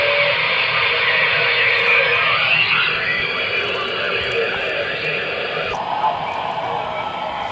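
CB radio receiver giving off a constant loud hiss of static that fills the whole stretch, with a brief click and a slight shift in tone partway through.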